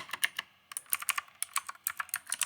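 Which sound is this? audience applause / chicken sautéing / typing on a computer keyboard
typing on a computer keyboard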